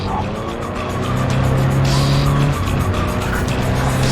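Car engine roars loudly in the Cyberpunk video game, with a sustained tyre squeal of skidding midway through, against steady driving noise and some voices.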